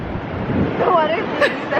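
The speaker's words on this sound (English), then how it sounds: "the water's coming, so run" Ocean waves wash in on Cannon Beach, a broad rushing surf with wind buffeting the microphone, close and fairly loud, while a voice rises above it briefly.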